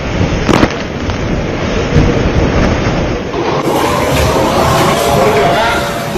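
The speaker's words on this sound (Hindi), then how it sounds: "बालासोर में भयानक रफ्तार से हवाएं चली।" Strong cyclone winds from Cyclone Yaas lash Balasore in a loud, continuous broadband roar, with gusty surges and a sharp crack early on.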